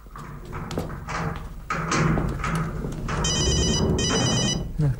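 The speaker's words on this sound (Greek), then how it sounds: "χτυπάει το κινητό της Κούκουρα." Mobile phone ringing indoors, a repeated electronic ringtone in two bursts after some bumping and movement noises.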